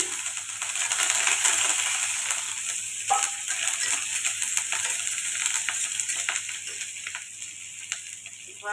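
Green chillies, garlic and curry leaves sizzle steadily in hot oil for a potato bhaji, a bright continuous crackle with occasional clinks of a spoon against the pan, close and without talk.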